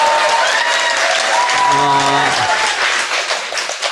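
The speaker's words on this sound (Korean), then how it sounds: "젊은이들의 함성" A young audience cheers and applauds in a hall, a dense steady wash of clapping and shouting. A voice speaks briefly over the crowd noise.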